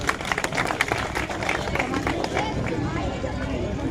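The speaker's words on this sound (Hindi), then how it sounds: "भाई ताली बजाते रहे, बच्चों के लिए हौसला अफजाई होती है" Applause and cheering from an audience of adults and children at a school Republic Day celebration, a steady mass of clapping mixed with crowd hubbub, fairly near and continuous throughout.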